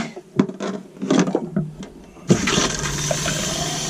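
A few knocks and clunks give way to a steady rush of running water from a camper sink tap, continuous and close.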